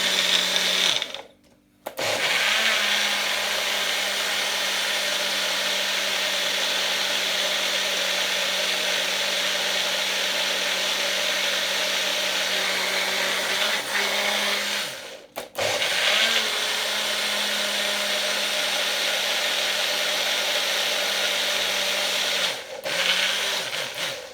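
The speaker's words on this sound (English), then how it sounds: "And then you want to blend this now." A blender blending celery runs loud and continuous, a steady motor whine with two brief pauses where it cuts off and restarts.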